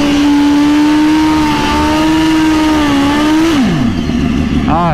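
A turbocharged Suzuki GSX-R 1000 drag bike, the Black Mamba, screaming loudly down a quarter-mile drag strip, one sustained high engine howl rising steadily, then dropping sharply as it shifts and passes.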